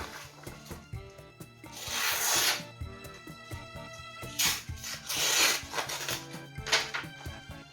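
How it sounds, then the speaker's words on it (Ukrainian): A Cold Steel Leatherneck Mini knife slices through paper in three separate rasping strokes, each a dry papery swish rising and fading, close up with no talking. "Папер ріже."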